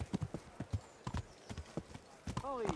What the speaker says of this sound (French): Faut que j'arrête de galoper.